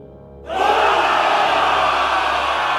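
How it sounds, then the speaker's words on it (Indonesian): A loud crowd of students bursts into cheering and shouting in a school dormitory, a sudden roar that holds steady and fills the space. "Sorakan keras langsung meledak, menggema di seluruh asrama."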